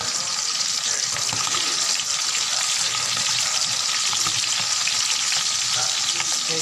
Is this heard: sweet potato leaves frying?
yes